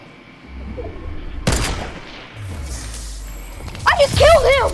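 A single sharp sniper rifle shot cracks out in a video game, standing out over low background game noise, followed moments later by an excited voice shouting.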